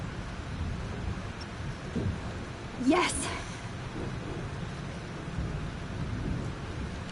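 Thunderstorm in a video game, steady rain and rumbling wind throughout with one sharp, loud thunder crack near the middle; a voice calls out briefly over the storm.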